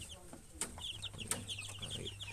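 Farm chickens cluck softly in a small livestock-raising setup, with a string of short, faint clucks and a couple of sharper squawks close by.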